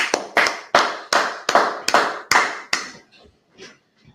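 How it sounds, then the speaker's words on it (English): An audience claps in slow, even unison at a religious class gathering, about eight loud sharp claps with a steady beat, then a few faint scattered claps trailing off. "Clap it up."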